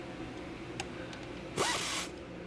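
An air ratchet spins briefly in one short burst while tightening brake caliper bolts on a Chevy Malibu during a front brake job, with a few faint clicks of the tool before it runs.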